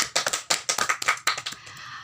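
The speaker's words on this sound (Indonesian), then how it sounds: "Ya, tepuk tangan semuanya." A school class claps after a song, a short burst of quick, uneven handclaps from a small group, close and fairly quiet, fading out within about two seconds.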